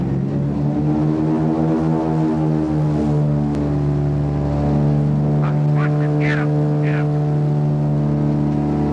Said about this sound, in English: As the wheels touch, the pilot orders full throttle. The old DC-3 performs a perfect touch and go.